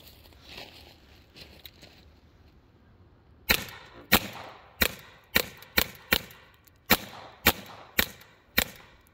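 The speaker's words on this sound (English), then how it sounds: "Wanted Harley to shoot Cinderblock." A toy blaster fitted with dual V2s fires at a cinder block, about ten sharp, loud cracks in a quick irregular series, each with a brief impact, near and alone after a quiet start.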